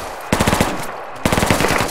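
An M240 machine gun in the game Project Reality fires two loud, close bursts of rapid shots, separated by a short pause.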